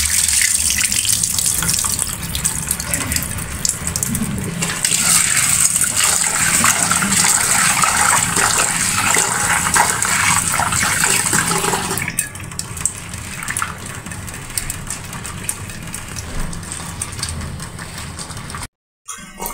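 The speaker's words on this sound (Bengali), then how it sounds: "মুসুরির ডালটা এখন ভালো মতো ধুয়ে নিবে।" Tap water running steadily as red lentils are rinsed in a kitchen sink, a loud continuous gush with splashing that shifts slightly midway and cuts out briefly near the end.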